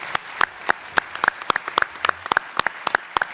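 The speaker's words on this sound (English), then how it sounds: "let's give a round of applause to our panelists" A small audience at a panel session of the Arctic Circle Forum claps for the panelists: sparse, distinct individual claps scattered at an uneven rhythm, moderately close, with no voices.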